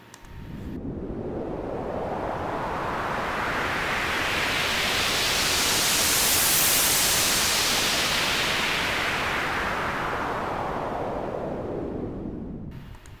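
White noise riser built in FL Studio with filter and resonance envelopes, a broad hiss that sweeps upward in brightness to a peak midway and then closes back down, steady and loud throughout with no talk.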